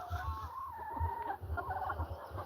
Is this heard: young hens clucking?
yes